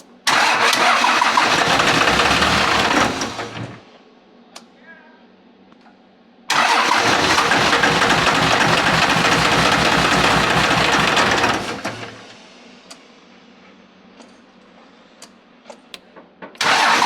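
A Cummins diesel swapped into a square-body truck cranks with a loud, steady starter churn in two long attempts, each falling away into near silence, with faint clicks between and a brief restart at the end.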